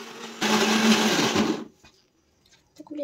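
An electric grinder whirs loudly while grinding green peas, ginger, sugar, salt and a little water into paste, a steady motor roar for about a second before cutting off, followed by quiet handling noises.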